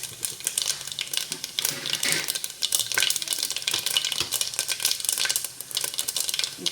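Biryani spices sizzling and crackling in hot oil inside a pressure cooker, a steady, dense frying hiss with bright popping spatters throughout, close and alone with no voices.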